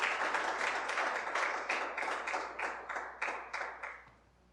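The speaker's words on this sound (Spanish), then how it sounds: "¿Cuántos le dan un aplauso al Señor?" A church congregation applauds together, a steady wash of many hands clapping with rhythmic pulses for about four seconds, then fading out, with no talk over it.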